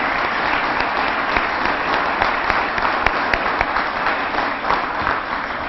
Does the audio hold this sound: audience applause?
yes